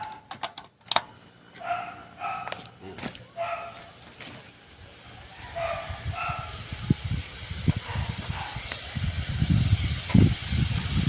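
Pressurized gas hisses from a freshly welded line on a Bostonbay air conditioner, with short clicking bursts early on giving way to a rough, fluctuating hiss.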